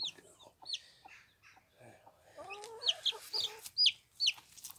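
Cuckoo Marans chicks peep in short, high, bright cheeps, several close by, scattered over quiet background rustling.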